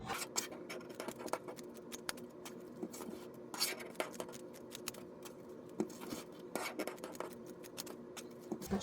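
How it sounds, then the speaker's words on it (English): Scissors snip repeatedly through a roll of Deco mesh, cutting it into 8-inch strips. Quick, crisp, close-up cuts come one after another with a soft rustle of mesh between them. "cut the entire remainder of your roll into 8-inch strips"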